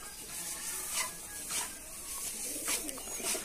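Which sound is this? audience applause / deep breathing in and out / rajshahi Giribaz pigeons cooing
rajshahi Giribaz pigeons cooing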